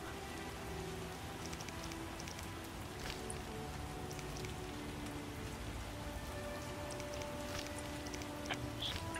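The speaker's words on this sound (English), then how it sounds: "It's raining." Steady rain patters on a surface throughout, even and continuous with no other sounds standing out, in the video game The Witcher.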